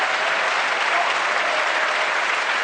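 Applause sound effect dropped into a comedy quiz podcast, a steady, even burst of many hands clapping from a crowd, loud and uninterrupted, with no talk over it.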